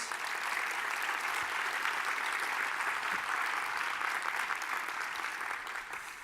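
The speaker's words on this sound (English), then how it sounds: "Can we give them a round of applause" A conference audience at An Event Apart Orlando gives a round of applause, dense sustained clapping across the hall that holds steady for several seconds before easing slightly at the end.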